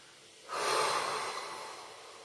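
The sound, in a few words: forced exhaling during a breathing exercise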